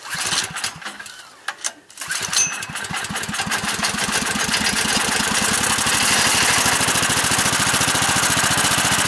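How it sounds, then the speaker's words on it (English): A generator engine running on synthetic gas made from wood splutters through a few uneven firings, then catches and settles into a loud, steady rapid chugging that continues without a break. "That is a generator running completely on synthetic gas."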